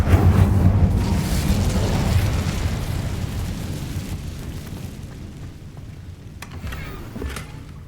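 A fire spell cast in the Hogwarts Legacy video game bursts out as a loud whooshing blast that fades slowly over several seconds, with small crackles and pops near the end.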